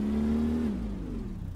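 Trucks race in the Brick Rigs game, an engine droning and revving steadily with a slight rise in pitch before easing off, fairly loud with no talking.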